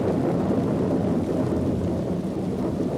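Heavy rain pours steadily, a dense unbroken hiss with a low rumble underneath, loud and close.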